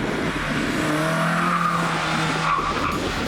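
Cars racing around a night circuit in Karachi, with a steady engine roar and tyre squeal as vehicles speed by, continuous and fairly loud with no talking.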